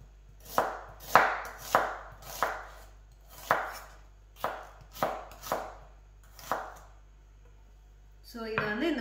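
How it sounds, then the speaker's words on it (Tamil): A knife slicing a halved red onion on a cutting board, about a dozen crisp, evenly spaced chops close by, followed by a short burst of clatter at the end. "இப்போ ஒரு ரெட் ஆனியன் வந்து ஒரு 1/2 onion மட்டும் நான் வந்து இந்த மாதிரி கட் பண்ணி எடுத்துக்கிறேன்"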